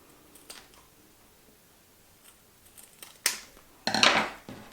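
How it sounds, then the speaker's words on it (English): Scissors snip through paper while cutting a Christmas tree shape into three pieces, giving a few quiet rustles and then two sharp, close crisp cuts near the end in an otherwise quiet room. "take our scissors again and cut our Christmas tree shape up into those 3 equal pieces"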